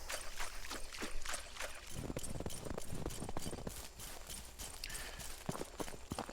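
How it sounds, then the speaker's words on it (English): Footsteps fall in a steady rhythm across different surface materials, a repeating series of crisp, clopping impacts from a game footstep sound set, moderately quiet with no voices. "it is nice having the footstep sounds change based on the material that you're walking on"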